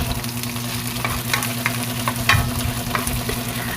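Steady sizzling of garlic and onion sauteing in hot oil, with occasional stirring scrapes, close and continuous with no talking.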